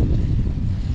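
Strong wind blowing across an open hay field during mowing, a loud continuous low roar buffeting the microphone with no talk.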